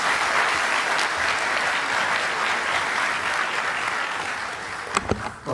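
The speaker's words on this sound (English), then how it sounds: "If we can please have a big round of applause" Audience at an Indian community event with a foreign minister in Brisbane, Queensland, applauding to welcome a speaker to the stage, sustained loud clapping from a full hall, tapering off at the end with a few louder claps.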